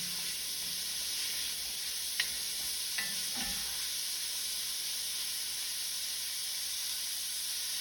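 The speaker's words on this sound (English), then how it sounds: "So really what we're having the vegetables sweat is what they call it." Diced vegetables for chicken gnocchi soup sweat in a hot pot with a soft, steady sizzle and hiss, broken by a few brief sharp clicks of a utensil against the pot.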